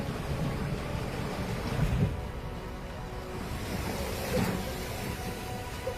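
Floodwater waves surge along the swollen Teesta river, a continuous heavy roar and rush of churning water mixed with wind buffeting, steady throughout with slight swells.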